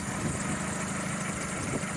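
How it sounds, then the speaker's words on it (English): A car engine idles steadily with its cover off, a close continuous mechanical rumble with faint rhythmic ticking and no speech. "engine's running happy enough as it is"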